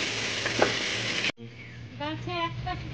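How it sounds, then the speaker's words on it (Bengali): Potatoes fry in a hot clay pot with a loud, hissing sizzle for about a second, then the sound cuts off abruptly and a person speaks. "এবার একটু আলুটা ভেজে নেব।"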